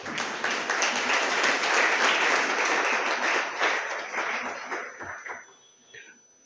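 An audience gives loud, sustained applause for teachers at a prize-giving ceremony for reading and calligraphy competitions. The clapping swells, then thins out and fades over the final seconds.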